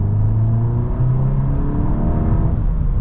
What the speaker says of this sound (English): It will also hit off the rev limiter too